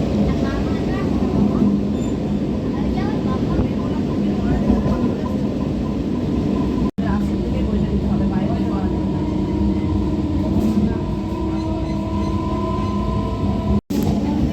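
Suburban train between Bally and Chinsura heard from inside a carriage, a loud continuous rumble and clatter of wheels on rails with rattling and squealing, voices talking over it.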